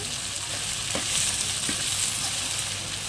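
Tomatoes frying in a pan for a dried prawn curry: a steady, close sizzle with a few soft stirring scrapes partway through and no voices.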